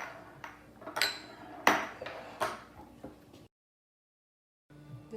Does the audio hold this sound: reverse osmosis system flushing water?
no